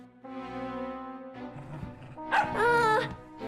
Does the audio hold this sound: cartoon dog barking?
yes